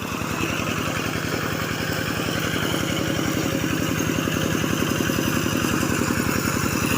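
A walking tractor's small single-cylinder engine runs steadily nearby in a rice field, its rapid chugging beat constant and loud throughout.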